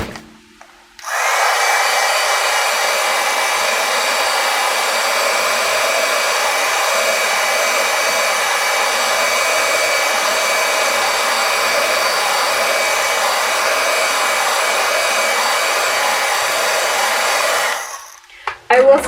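A heat tool blows hot air to set stamped ink, a loud steady whirring hum that starts abruptly, runs unbroken for about sixteen seconds, then cuts off.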